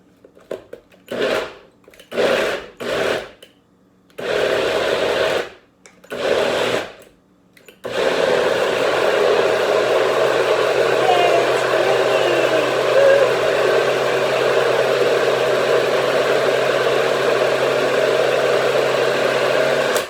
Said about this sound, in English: You just have to be patient with these NutriBullets.